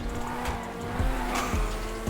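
A tuned car in GTA V on a FiveM server brakes hard at about 300 km/h, tires squealing briefly over a loud engine drone, with a few sharp thuds and no talk.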